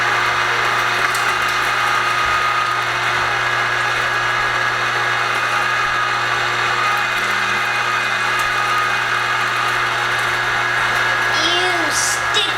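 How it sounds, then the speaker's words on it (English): Meat grinder working pork and beef liver: a continuous motor drone with a steady low hum and faint grinding texture, close up, with a voice talking over it. "The liver looks looks even grosser coming out of the meat grinder than it does going in."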